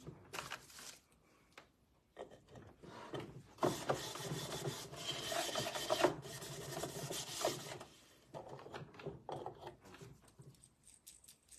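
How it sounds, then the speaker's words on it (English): Someone scuffs the top of a wooden side table by hand before painting it, making bursts of rasping strokes separated by pauses and a few light clinks, close and fairly quiet. "I'll just scruff up the tops of these two, the sides and the bottom."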